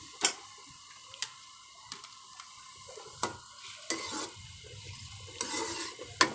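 Onions fry in ghee in a pan as a quiet sizzle sits under a series of sharp spoon clicks and taps against the pan from stirring.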